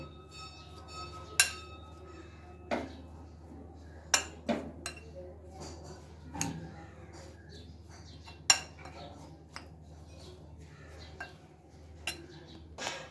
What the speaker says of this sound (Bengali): এটা চামচ নিয়ে নিয়েছি, এটাতে ভালোভাবে এইভাবে আমি সব উপকরণগুলো মিশিয়ে নেব